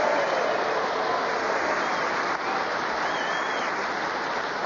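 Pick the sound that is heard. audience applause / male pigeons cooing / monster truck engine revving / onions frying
audience applause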